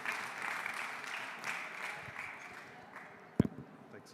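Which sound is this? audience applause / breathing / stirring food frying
audience applause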